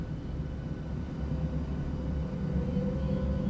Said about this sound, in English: And in the rear, you'll hear the flaps come down.